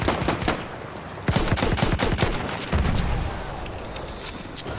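Rapid bursts of pistol gunfire ring out in a shooter video game, a string of sharp, close shots in quick succession, then a lull with sparse electronic effects and a final pop.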